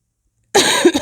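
A single sharp, close cough bursts out after a moment of silence, followed by a quick second rasp as the throat catches.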